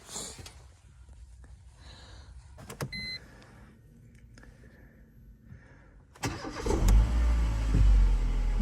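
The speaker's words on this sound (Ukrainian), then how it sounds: "Ого, як він заводиться бодренько." A clean, dry petrol engine in a 2011 Mercedes-Benz B-Class cranks and catches briskly, then settles into a loud steady idle after a few quiet clicks and knocks.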